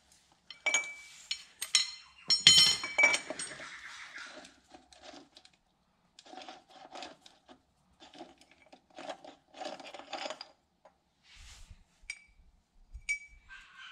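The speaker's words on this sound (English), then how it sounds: "So now I can undo that lock nut on the outside." Metal clinks and scraping clatter from a thin deep socket working loose the outer wheel hub lock nut on a 79 Series Landcruiser, several bursts of ratcheting and tapping up close, followed by quieter scattered clicks.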